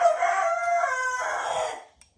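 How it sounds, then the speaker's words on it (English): A rooster lets out one loud, close cock-a-doodle-doo, a rising then falling crow held for nearly two seconds before cutting off. "Shut up, Rooster."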